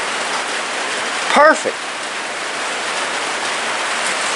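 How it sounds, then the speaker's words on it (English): Heavy rain falling outdoors, a steady loud hiss of drops that runs through the whole clip, with one brief spoken word partway through. "I think I'm going to try to wait for this rain to die down a little bit"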